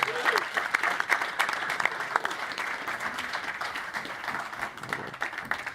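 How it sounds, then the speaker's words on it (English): An audience applauds at Codegarden 2024, a steady wash of many hands clapping that runs throughout at full, close volume, with a little voice and crowd murmur mixed in. "Give our Aussies a round of applause, everyone."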